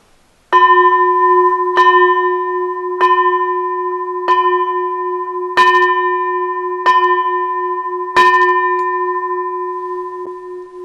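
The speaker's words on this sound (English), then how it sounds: "So we end by ringing the bell of invincibility." Meditation bell struck seven times at the close of a talk, each strike a clear sustained ring with long overlapping decay, spaced about a second or more apart, loud and close.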